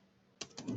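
Typing on a computer keyboard: after a quiet moment, a quick burst of several sharp key clicks close by, alone without talk.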